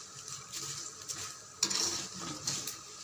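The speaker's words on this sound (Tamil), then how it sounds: "கொஞ்சம் கொஞ்சமாக சேர்த்தாதான் அது நல்லா பொரிஞ்சு வரும்" Corn flakes frying in hot oil at home, a steady close crackle and hiss with a scraping stir partway through and a few light utensil knocks, no talking.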